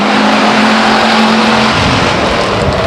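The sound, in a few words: race cars accelerating at Stockton 99 Speedway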